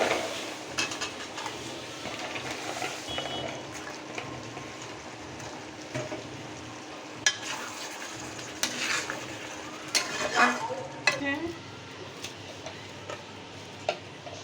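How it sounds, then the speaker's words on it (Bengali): Panch phoron spices crackle and fry in hot oil, a steady close sizzle broken by sharp clinks and scrapes of a utensil against the pan, with no talking. "পাঁচফোড়ন দিয়ে দিচ্ছি একটু ভালো ফ্লেভার হওয়ার জন্য"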